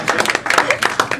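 Brief burst of audience applause greeting an evening's guest speaker at a lecture gathering, quick uneven hand claps close and fairly loud for just over a second.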